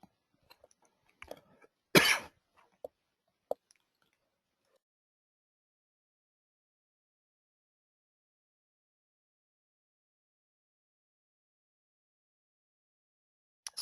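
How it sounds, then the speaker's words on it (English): A single sharp cough in a quiet room, loud and brief, preceded and followed by a few faint clicks and small movement sounds, then long near-silence. "excuse me, I had to cough."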